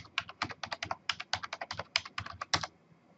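Rapid, uneven clicking of keys on a computer keyboard, close and distinct, about three seconds of continuous typing with brief pauses and no talking.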